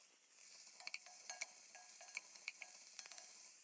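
Lamb meat sears quietly in a hot pot, a soft steady hiss dotted with small crackles and pops, close by and without voices.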